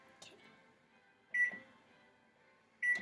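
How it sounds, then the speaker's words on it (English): An oven timer is set with short electronic beeps spaced about a second and a half apart, close and clear in a quiet kitchen. "Now we need to set the timer again since they're in the oven."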